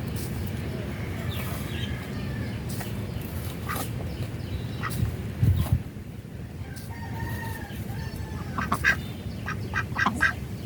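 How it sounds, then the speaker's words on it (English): Hens clucking and calling in the background with faint, scattered duck-like and other fowl sounds over a steady outdoor murmur. "if you hear that background noise of her clucking all the time"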